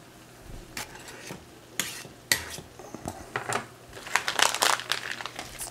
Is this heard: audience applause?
no